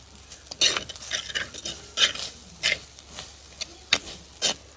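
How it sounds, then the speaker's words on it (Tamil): A spoon stirring grated coconut as it roasts in a pan: irregular scraping strokes against the metal, close and moderately loud, with a faint crackle underneath. "கிளறி கொண்டிருக்கோம்"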